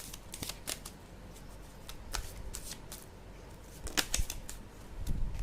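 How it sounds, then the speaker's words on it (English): A deck of tarot cards is shuffled and cards are pulled, producing close, crisp papery riffles and flicking snaps in quick irregular bursts over a steady low background hiss. "So let me pull out some more cards also"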